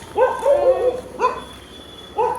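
A dog gives a few short, fairly loud barks in a quick series, with a brief pause before a final bark, close by and with no talk over it.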